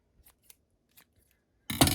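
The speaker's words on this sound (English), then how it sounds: "I'm just going to trim my strands again." Scissors trim paper strands for a junk journal: a few faint snips, then one louder, close cut at the end.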